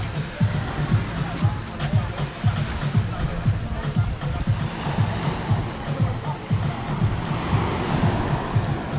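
Surf breaking at Playa Chiquita, a small beach, with a steady wash of waves and wind-blown noise, low rumbling pulses running continuously throughout.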